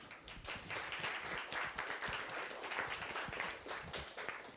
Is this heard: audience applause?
yes